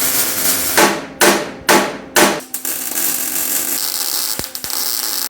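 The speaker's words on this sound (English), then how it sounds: "I'm going to tack these corners together at the top and at the bottom" Steel corners of a model locomotive body being tack welded, four sharp crackling bursts of welding in quick succession close by, followed by a lower buzzing hum and a few clicks and taps.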